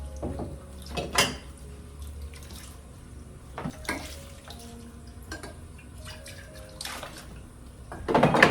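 Tap water splashes into a cooking pot in a home kitchen, filling it for boiling, with intermittent bursts of running and clattering rather than a steady pour, no voices.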